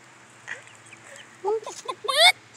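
A person imitates a chicken among backyard Leghorn hens, giving short clucking and squawking calls that build into a loud, rising burst near the end, close by and alone.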